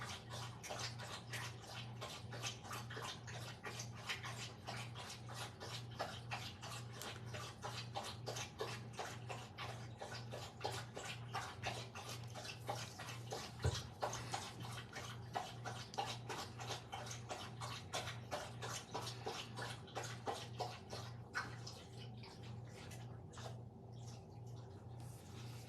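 A thirsty dog laps water in a quick, steady rhythm of wet slurps and splashes that continues for a long stretch, close and fairly loud, with no voices.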